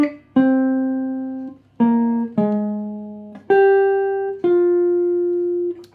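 The opening two phrases of a jazz standard are played as six clear, sustained melodic notes, each struck cleanly and left to ring and decay, close and alone.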